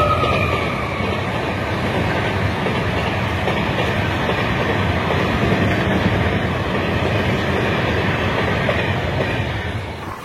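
A Ranchi to Asansol MEMU passenger train running on the line, loud continuous rumble with rhythmic clatter of wheels over rail joints, heard from on board, steady throughout and easing slightly at the end.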